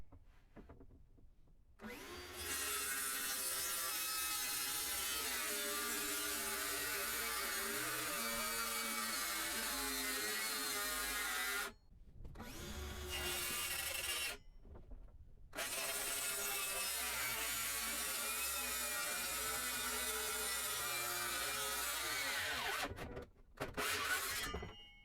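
A power saw cuts through plywood in long, steady, loud stretches of harsh whine, stopping briefly a couple of times, with the playback sped up to double speed. No voices.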